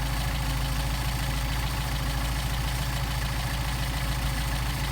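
Mercedes 190SL engine idling on Solex carburetors, a steady, even mechanical hum with a low rhythmic pulse, continuous and close, with no voices.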